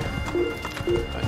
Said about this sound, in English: I'm not even running, my horse is running.